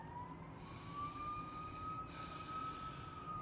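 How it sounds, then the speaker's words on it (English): A fire engine siren passes outside, a steady high wail that slowly rises and holds, heard at a moderate distance under a low rumbling background, with no one talking. "excuse the fire engine"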